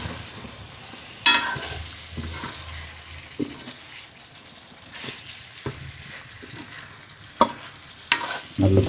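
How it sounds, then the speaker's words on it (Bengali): Chicken and potatoes sizzle in a pan during curry cooking, with repeated sharp stirring scrapes and clatters of the spatula breaking over a lower frying hiss. "মাংসটাকে স্বাদ বেশি করার জন্য সাথে একটু আলু দিয়ে দিচ্ছি।"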